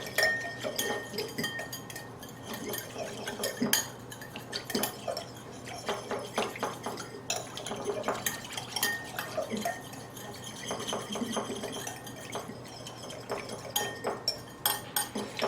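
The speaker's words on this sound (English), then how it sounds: "I usually like to stir this between 1 to 2 minutes just to get it really nice and dissolved." A whisk and spoon stir a yogurt mixture in a pot, producing steady scraping swirls with frequent light metallic clinks against the sides, close and continuous for about fifteen seconds without speech.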